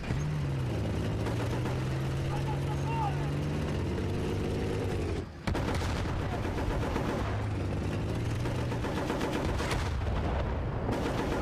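Gunfire and explosions in the Battlefield: Bad Company campaign, dense shots and booms over a droning engine, with a player talking over the action.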